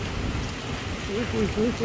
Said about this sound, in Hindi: कितनी तेज़ बारिश हो रही है, ऐसे है जैसे तूफान आया हुआ है